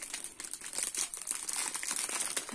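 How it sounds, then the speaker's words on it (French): Paper packaging for a scrapbooking project is torn open and crumpled close up, a continuous crinkling and ripping texture with uneven bursts, no speech. "moi, je déchire tout comme d'habitude"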